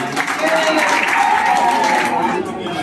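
An audience claps at a local ward council election gathering in Najibabad, Bijnor, a dense, steady patter of applause close by with voices mixed in, fading slightly at the end.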